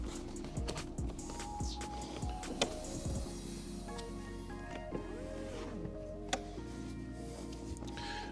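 Electric power window in a car interior motoring upward, a steady whirring hum with light clicks and taps over it, close by and fairly quiet, no talking.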